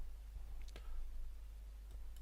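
A computer mouse gives a short, crisp click near the middle, followed later by a fainter tick, against quiet room tone.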